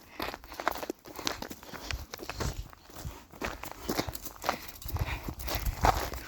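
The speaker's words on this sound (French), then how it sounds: "Gentil poney." A pony walks along, its hooves giving an uneven clip-clop close by, steady footfalls continuing throughout with no talk.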